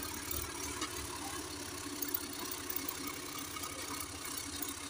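A tractor engine idles at a steady low throb, quiet and somewhat distant, with a faint rattle running through it and no voices.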